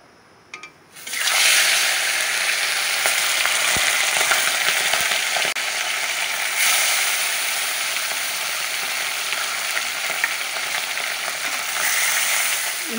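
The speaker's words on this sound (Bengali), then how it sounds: "মাছ, তেল দিয়ে দিচ্ছি। মাছগুলো ভেজে নিচ্ছি।" Tilapia fish frying in hot oil, a loud steady sizzle that starts abruptly after a brief quiet moment and crackles on without a break, close by and on its own.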